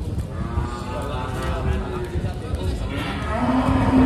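A large cow mooing at a cattle market, a long low bellow that swells louder near the end, set against crowd chatter and someone speaking close by.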